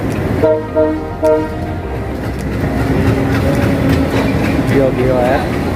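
A train at Dhaka airport railway station, with horn toots sounding near the start and again near the end over a loud rumbling station ambience and people talking.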